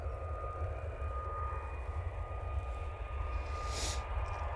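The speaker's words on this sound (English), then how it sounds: "It's just a Ryanair taking off." A Ryanair airliner takes off at Manchester Airport, a steady low engine roar rumbling at a distance and holding level throughout, with a brief brighter hiss near the end.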